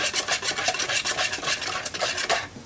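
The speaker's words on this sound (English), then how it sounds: "you're going to whisk that together in your bowl just to combine it" A mixture for a chocolate mud pie is whisked in a bowl, a rapid series of scraping, rasping strokes with a brisk uneven rhythm, close and moderately quiet, with no voices.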